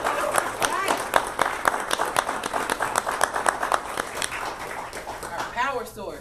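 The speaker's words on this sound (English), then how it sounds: "Y'all clap." An audience at a C4SA Coalition gathering breaks into steady, dense clapping with a few whoops, sustained for several seconds at moderate loudness.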